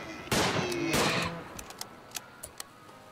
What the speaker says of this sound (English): let's fire at the ram